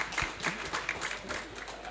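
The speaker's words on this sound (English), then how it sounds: "definitely worth an applause" Applause from a conference audience at a climate summit business event, a steady patter of many hands, fairly quiet and somewhat distant, with no talking over it.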